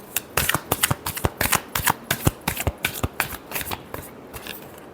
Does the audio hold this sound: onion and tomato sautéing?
no